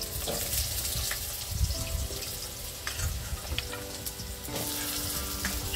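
Whole poppy seeds are stirred in a hot pan, giving a steady sizzle with clinks and scrapes of the spoon, heard close up and without talk.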